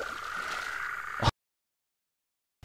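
A frog croaking outdoors, a steady buzzing trill for about a second that stops abruptly and leaves silence.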